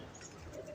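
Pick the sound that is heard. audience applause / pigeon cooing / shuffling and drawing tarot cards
pigeon cooing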